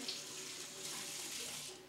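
Tap water runs steadily into a sink for handwashing, a soft continuous splashing stream at moderate distance with no talk over it.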